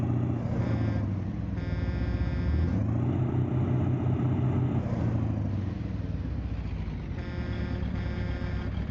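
A heavy truck in American Truck Simulator, just coupled to its trailer, rumbles with a deep, steady engine drone that changes pitch as it works through its revs, loud and close with no voices over it.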